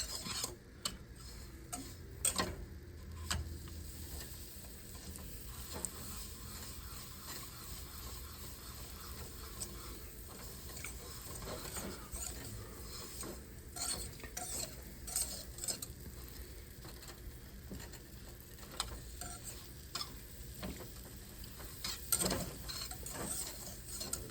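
Sugar and unsalted butter stirred in a mixing bowl for brownies, giving a steady scraping, ticking swirl with faint clinks of utensil on the bowl, close and continuous without talk.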